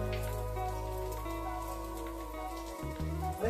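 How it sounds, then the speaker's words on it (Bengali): Spices for pav bhaji fry in a pan with green chilli, a soft continuous sizzle and crackle close by under a steady low background hum. "সব মশলাগুলোকে ভালো করে ভেজে নেবো"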